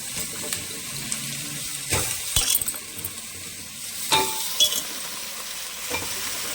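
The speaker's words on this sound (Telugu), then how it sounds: "ఇప్పుడు మనం మునక్కాయ ముక్కలు వేసేసుకుందాం కూరలో." Drumstick pieces drop into a pan of softened onions and green chillies for a drumstick pulusu, bringing a continuous close sizzle with a few clattering bursts as pieces land and are stirred.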